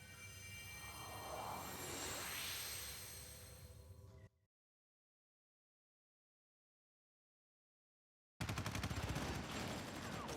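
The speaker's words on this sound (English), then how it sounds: "Are they still shooting at me?" Gunfire in Crisis Core: Final Fantasy VII Reunion, a dense loud barrage of shots with whooshing effects, cutting off into silence for several seconds before another burst of heavy firing resumes.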